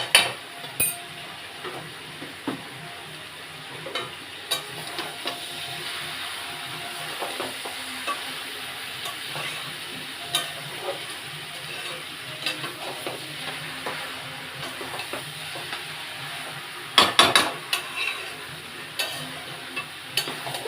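Cabbage and fish head are sautéed in a pan over a steady low sizzle and fry, with occasional stirring scrapes and a brief clatter of a utensil against the pan; no one talks.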